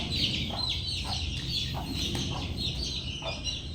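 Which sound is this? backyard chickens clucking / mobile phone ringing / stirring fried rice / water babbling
backyard chickens clucking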